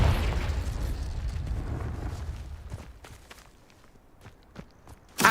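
Spell blasts from Incendio and Confringo in Hogwarts Legacy: a loud burst of fiery, booming noise at the start fades into a rumbling tail, then scattered footsteps, with a sharp pop right at the end.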